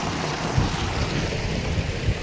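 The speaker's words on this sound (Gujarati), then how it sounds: "અહીંયાથી પાણી આવી રહ્યું છે" Irrigation water rushes into a farm field of castor plants, a continuous loud wash of flowing water mixed with wind buffeting the microphone.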